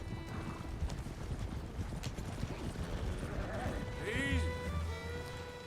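Horses in Red Dead Redemption 2: hooves clip-clop steadily at a trotting rhythm, with a horse's whinny rising near the end, while voices talk over the scene.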